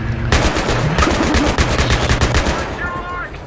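A mounted gun fires in Battlefield 3 as loud, rapid bursts of booming shots in a fast, regular rhythm. The shots run almost continuously for a few seconds and end with a short, faint ringing tail.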